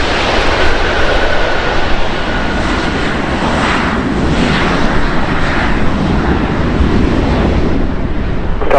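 A Lufthansa Airbus A380 landing at Los Angeles, heard as a loud, continuous broadband jet roar with wind-like rushing that holds steady throughout, close by and with no voices.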